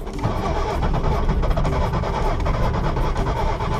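A classic SEAT 600 small car engine cranks and catches, then roars and revs loudly close by, its rough mid-pitched running continuing strongly to the end.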